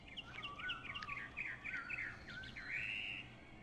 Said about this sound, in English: Let's just put the birds on.